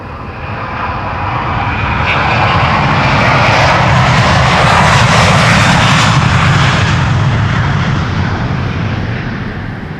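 An airliner passes on the Polderbaan runway 36L/18R at Amsterdam Schiphol, a loud, broad engine roar that swells to a peak midway and then slowly fades, with no voices.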